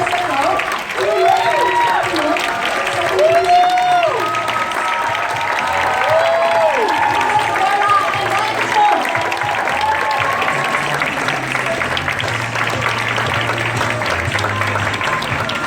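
An audience applauds steadily to welcome speakers at a fellowship session, a loud continuous wash of clapping with crowd voices and some whoops mixed in, lasting throughout.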